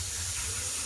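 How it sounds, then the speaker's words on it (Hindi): A pressure cooker vents steam in a continuous loud hiss with no breaks, heard close up throughout. "मेरे कुकर में सीटी आ रही है, देखिए।"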